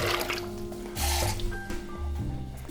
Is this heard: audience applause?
no